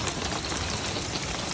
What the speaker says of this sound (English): it is still pouring rain, so the place is basically flooded out